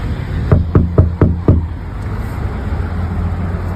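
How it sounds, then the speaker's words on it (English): Five sharp knocks on a door in a steady, evenly spaced run, fairly close and clear, then only a quiet outdoor background with no voices. "maybe give it another knock"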